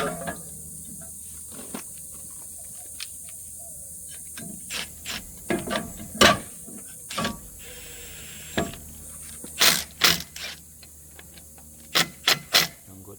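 A screw threaded in and tightened by hand on a new pre-coated front brake rotor of a 2018 VW Atlas, heard as scattered sharp clicks and ratcheting taps, several in quick bursts, over a faint steady hiss with no talking.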